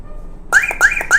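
A Bluetooth car alarm sounds three sharp, loud electronic beeps in a regular rhythm after a brief quiet start, the illegal-start warning of the system.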